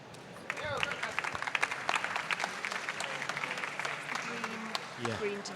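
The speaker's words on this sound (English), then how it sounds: "Round of applause, everyone" Applause and clapping from a conference audience at a London startup pitch event, filling the room under faint chatter and a few cheers, fading toward the end.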